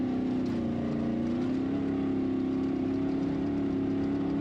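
Ultra4 off-road race vehicles roar past during lap 3 of the 2025 Ultra4 Nationals desert race in Laughlin, Nevada, a steady droning engine hum that holds loud and constant throughout with a slight pitch sweep.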